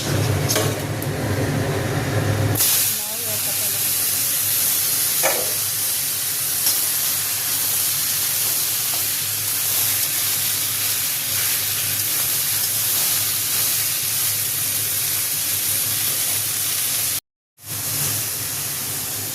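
Bottle gourd goes into a hot spice tempering with a sudden loud hiss that settles into a steady, broad sizzle, with one brief dropout near the end.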